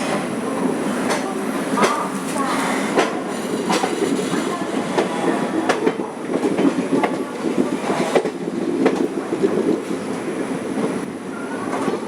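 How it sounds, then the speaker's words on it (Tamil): A Jan Shatabdi express train running from Coimbatore to Mayiladuthurai, heard from on board as a continuous rolling rumble with repeated wheel clicks and rattles of the carriage. "கோயம்புத்தூரிலிருந்து மயிலாடுதுறை வரை செல்லும் ஜனசதாப்தி அதிவிரைவு வண்டி."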